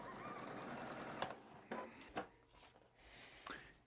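Sewing machine running a seam through quilting cotton to make half-square triangles, a quiet continuous hum followed by a few soft knocks and clicks, with no talk.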